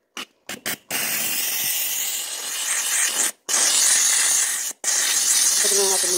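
A McCulloch 1385 steam cleaner hisses steadily in close, loud bursts while cleaning bugs off a surface, with short pauses between jets and a brief voice at the end.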